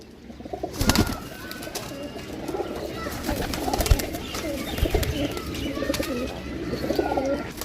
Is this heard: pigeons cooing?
yes